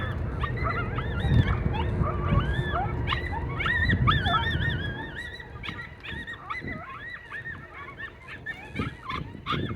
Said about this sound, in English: we did hear the coyotes, and we're going to share those with you right now.